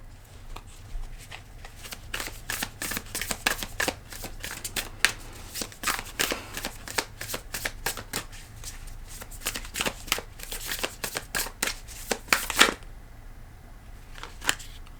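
Tarot cards being shuffled up close in a long run of crisp, rapid riffles and slaps, with irregular bursts of loud card snaps throughout and no voices.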